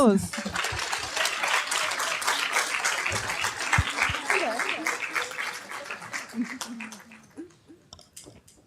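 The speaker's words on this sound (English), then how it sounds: "let's give them some applause." An audience at a book launch breaks into a sustained burst of clapping that slowly thins out and fades toward the end, with some voices under it.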